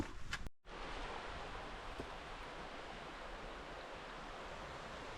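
North Chickamauga Creek rushes among large boulders along the Cumberland Trail gorge, a steady broadband water roar heard close and continuous after a brief knock at the start.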